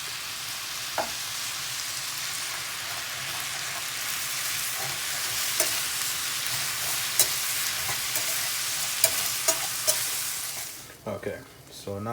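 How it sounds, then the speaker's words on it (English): Beef, carrots, celery, cherry tomatoes and garlic sizzling in a pan with tomato sauce stirred in, a steady close hiss punctuated by utensil clicks, quieting near the end as the sauce goes in. "So now we're just gonna put some tomato sauce in there."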